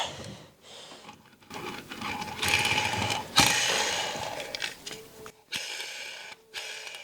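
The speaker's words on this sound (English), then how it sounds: "That bearing is some noisy." A creaking, grinding mechanical rotation from a noisy bearing in a Honda ATC 250R engine during teardown, gritty ratcheting texture, close and fairly quiet, rising and falling as the part turns, with brief pauses.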